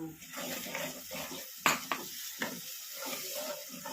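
A spoon stirs yogurt mixture into fried onions and paste in a pan for a gram flour curry, with soft scraping and wet sizzling, a few sharper clinks against the pan, steady and close.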